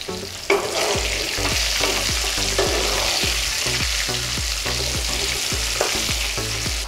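Potatoes fry in hot oil with salt, turmeric and Kashmiri chilli powder for a Bengali mutton curry, a steady loud sizzle broken by repeated scraping strokes of a spatula stirring the pan, with no talking.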